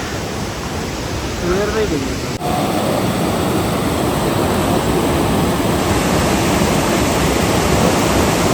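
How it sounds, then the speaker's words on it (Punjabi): Waterfall runoff rushing down as a river on the trail between Hemkunt Sahib and Gobindghat, a loud, unbroken roar of water close by, with a voice briefly audible over it. "ਉਹ ਵਾਟਰਫਾਲ ਦਾ ਜਿਹੜਾ ਸਾਰਾ ਪਾਣੀ ਆ ਦਰਿਆ ਬਣ ਕੇ ਇਧਰੋਂ ਨਿਕਲਦਾ"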